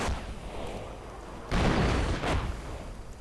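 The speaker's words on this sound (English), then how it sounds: "Lots of artillery going off." Artillery fire in a WWII strategy video game, a rumbling barrage with two heavier booming surges in the second half, dense and continuous with no voices.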